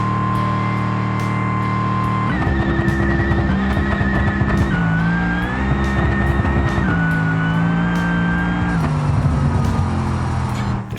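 A supercharged Grand Marshal drag car on a no-prep outlaw run in the BeamNG driving game: a loud, sustained engine wail that climbs and drops through several sharp gear shifts, alone with no talk.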